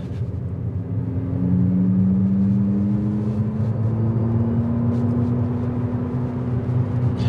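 Synthesized engine sound from an Abarth 500e electric car under acceleration on a road, a steady loud droning hum with rising tones, continuous for several seconds with no talking.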